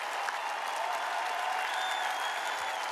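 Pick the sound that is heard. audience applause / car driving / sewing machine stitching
audience applause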